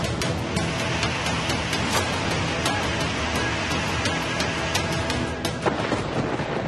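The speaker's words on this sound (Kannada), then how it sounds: "ಹಾವೇರಿಯಲ್ಲಿ ಬಿರುಗಾಳಿ ಸಹಿತ ಮಳೆಯಾಗ್ತಾ ಇದೆ" Heavy rain pours down steadily in a windstorm in Haveri with a loud, continuous roar, sharp crackles and gusts breaking through now and then.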